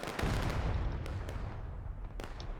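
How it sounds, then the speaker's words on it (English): A Union artillery shot in the War of Rights video game, a deep rumbling boom with dense low-end energy that fills the clip and slowly fades, with a few sharp distant cracks of gunfire over it. "good Union artillery shot right there"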